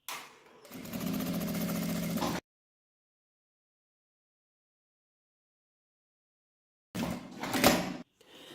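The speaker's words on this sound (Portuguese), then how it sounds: "Uma costura com um pé de máquina em toda a volta" A sewing machine runs a continuous seam around the edge of a fabric accordion wallet in two close bursts, the first about two seconds long, with near silence between them.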